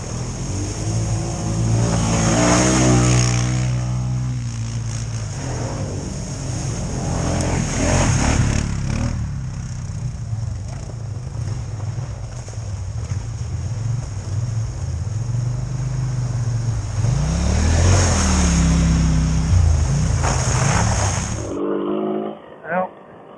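A 350 ATV engine revving hard through brush and sticks on a winter ride in Alaska, loud sustained engine drone with rising and falling pitch as the wheels spin, cutting off near the end.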